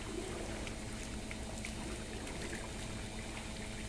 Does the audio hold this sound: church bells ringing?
no